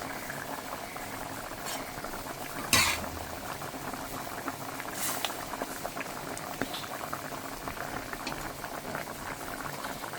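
Rohu fish curry with vegetable stalks bubbling steadily in a pot just after the fish pieces go in, a continuous close boiling patter with one brief louder clatter near the start.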